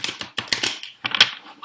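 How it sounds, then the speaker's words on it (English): Tarot cards are shuffled by hand at close range, with quick crisp bursts of clicking and riffling in uneven rhythm and short pauses between them. "One more shuffle."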